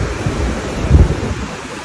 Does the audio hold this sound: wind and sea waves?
yes